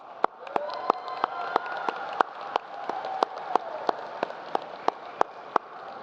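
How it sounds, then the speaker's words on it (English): Commencement ceremony audience gives a round of applause: a soft, rain-like wash of many hands, with one nearby clapper's sharp claps standing out in a steady, even beat. "I want you to thank them in a round of applause."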